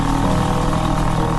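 A cartoon scooter pulls away in a continuous, loud, steady motor buzz with a slight clatter and no break.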